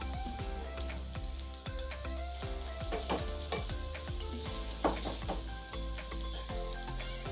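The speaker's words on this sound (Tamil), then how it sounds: "வெங்காயம்லாம் நல்லா ஃப்ரை ஆகணும், அது வரைக்கும் நம்ம ஃப்ரை பண்ணிகிட்டே இருக்கலாம்" Onions fry in a pan for a pigeon pea curry, sizzling steadily under a low background hum, with scattered clicks and scrapes from stirring, moderately quiet and without talk.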